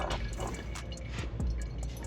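Fluid is poured while a motorcycle is serviced, giving a steady close liquid trickle with small drips and splashes under a constant background hiss, with no voices over it.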